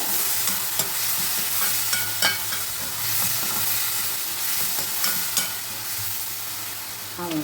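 Chilli idli being stirred and fried in a pan with tomato sauce, a steady close sizzle with intermittent scraping stir strokes throughout, no talking.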